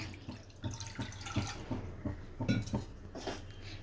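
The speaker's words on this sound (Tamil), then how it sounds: "ஒரு கடாயில் கொஞ்சமாக வந்து தண்ணி வந்து சேர்த்துக்கலாம்" Water runs and splashes into a metal kadai with light clinks of cookware, a steady close pour with small bursts of splashing.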